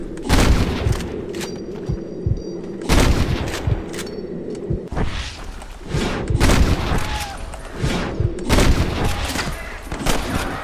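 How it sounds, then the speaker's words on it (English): Repeated gunfire in a Red Dead Redemption shootout, loud booming shots fired in quick irregular volleys with brief gaps, close and dense throughout. "That was some pretty damn good shooting, John."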